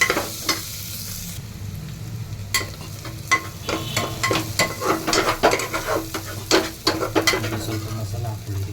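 Paneer biryani ingredients frying in a pan, with an ongoing sizzle and a run of sharp spatula scrapes and stirring clatters that grow busier and louder toward the end, no voices.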